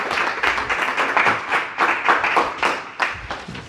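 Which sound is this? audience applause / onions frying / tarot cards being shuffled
audience applause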